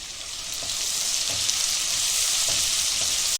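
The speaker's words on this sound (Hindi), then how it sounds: "अभी प्याज को लाल करेंगे।" Onions fry in oil in a pan, giving a steady, bright sizzle close by that swells slightly and holds before cutting off suddenly.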